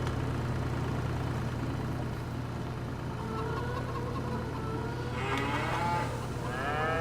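Cows moo on a Farming Simulator 25 farm, several drawn-out lowing calls rising midway and near the end over a constant low engine idle, moderately close.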